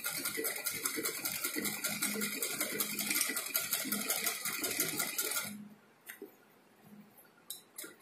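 Sewing machine runs fast stitching a designer blouse back neck, a dense rapid ticking stitch rhythm for about five seconds, then stopping, leaving a few scattered clicks and handling taps.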